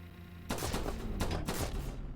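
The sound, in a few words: gunfire sound effects in a video game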